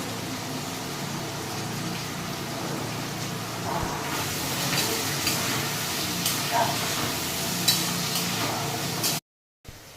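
Potatoes frying in a pan, a steady broadband sizzle and hiss running for several seconds, close and fairly loud, with faint stirring, then an abrupt cut near the end.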